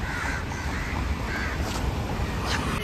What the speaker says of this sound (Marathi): मुंबईमध्ये कावळे बघा